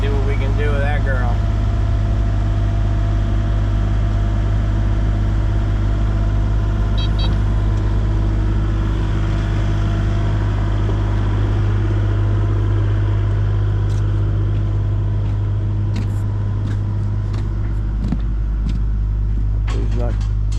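A Mason dump truck engine with a low-mounted muffler rumbles loud and steady at close range for the whole stretch, with voices over it.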